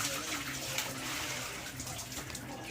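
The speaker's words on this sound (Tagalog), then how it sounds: "Laba ako." Clothes being washed by hand in water, a constant close splashing and sloshing with no pause, loud and dense across the short stretch.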